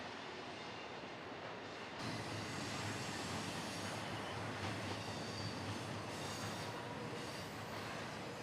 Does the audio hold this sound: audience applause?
no